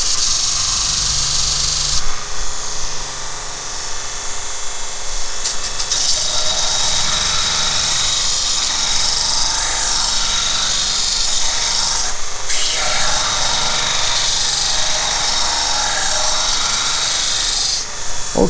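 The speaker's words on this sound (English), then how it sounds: "It's actually a lot more convenient than a larger size grinder." A small grinder sharpens a brazed carbide boring bar for jig boring on a milling machine, producing a steady, loud, bright grinding rasp that runs continuously with brief dips in intensity.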